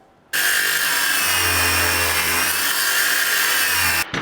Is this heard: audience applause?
no